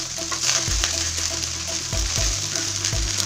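Chicken fried rice stirred in a hot pan gives a steady, loud sizzle throughout, with a few low scraping thumps as the rice is turned and tossed, and no talking.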